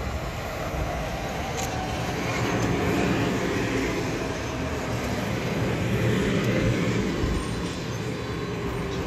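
Steady loud rumble and rolling roar from inside a commuter train heading toward Clearview station in Canada, continuous throughout with no talk.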